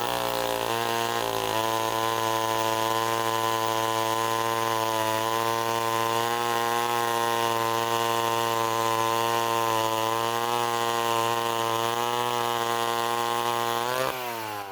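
A vintage Wright C50 chainsaw runs at a steady, somewhat slow rpm for about fifteen seconds, a loud, close, buzzing drone that dips briefly near the end.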